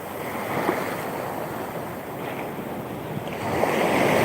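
Steady ocean surf washing in with a broad wash of wind, a continuous rolling roar that swells slightly near the end, no voices.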